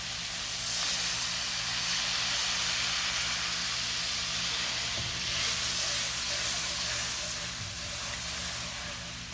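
Aromatics and coconut milk sizzling in a pan for a bitter melon coconut curry, a steady loud hiss with faint stirring clinks, continuous and alone without talk.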